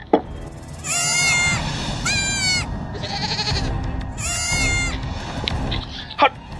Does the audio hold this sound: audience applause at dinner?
no